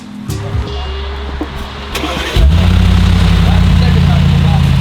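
A 2019 Mercedes G63 sits idling with a low rumble, then its engine and exhaust swell into a louder, deep steady drone that dominates the scene, with people talking over the start.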